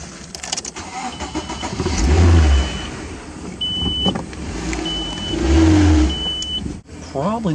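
A convertible car's engine starts and pulls away nearby, rising in two broad surges of revving with a faint electric whine in between, and voices are heard talking under it.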